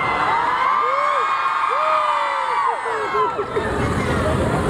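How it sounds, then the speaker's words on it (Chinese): Crowd at a New Year countdown event in Sunway Carnival Mall, Penang, cheering and whooping loudly with sustained noise and rising shouts, a steady dense roar throughout. "掌声"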